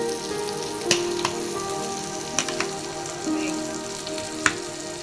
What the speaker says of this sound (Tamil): ஃபிஷ்ஷு வறுத்துதுங்க.